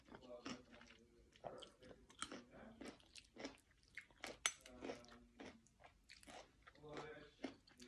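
Close, wet chewing and crunching of khanom jeen rice noodles with Alaskan crab curry and fresh vegetables, in an irregular run of bites and squishes, with faint voice sounds mixed in.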